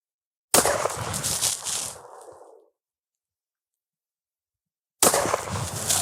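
A single loud, sharp rifle shot from a .300 Winchester Magnum firing 165-grain Eze-Scorer ammunition outdoors, close by, with a reverberating tail that fades over about two seconds, then a second sharp burst at the end.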